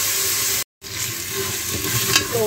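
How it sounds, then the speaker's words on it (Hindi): Chicken for yakhni fries in a pan with a little oil and is stirred, a steady close sizzle that cuts out briefly to silence, then resumes with light scraping. "ये देखिए बस इसको मैं थोड़ा सा और भून लूँगी कि कच्चापन इसका ख़त्म हो जाए।"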